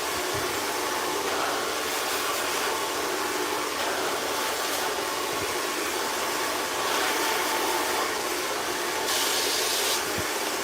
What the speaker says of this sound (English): you have to put too much pressure from the blow dryer